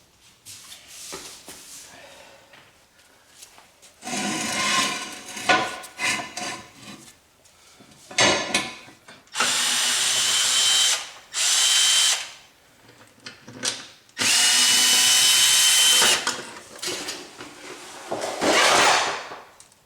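A power tool on a Volvo XC90 whirs in several loud, close bursts of a few seconds each as lug nuts come off the wheel, with clanks and handling noises in the gaps.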